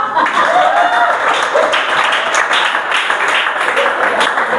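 Audience applause during a church discipleship training session, steady dense clapping lasting several seconds, mixed with faint murmuring voices and a bit of laughter.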